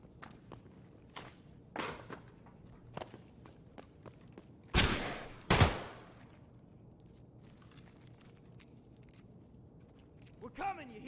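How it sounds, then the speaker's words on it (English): Gunfire in Escape from Tarkov, a shooter video game: scattered distant single shots early on, then two loud close cracks in quick succession, followed by quieter footsteps and movement. "His shots were coming in quick and accurate."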